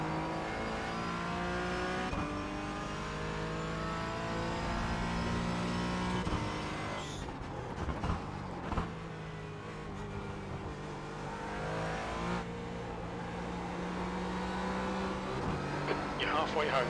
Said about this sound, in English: Imagine cars in a race fighting for position.